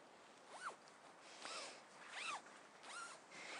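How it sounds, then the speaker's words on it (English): Zippers on the two doors of a Black Wolf Turbo Air Twin tent being drawn together, four distinct rasping zip strokes in a steady rhythm, close and clear with no talk. "The 2 doors just zip together."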